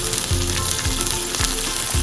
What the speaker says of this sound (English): you can hear it start to sizzle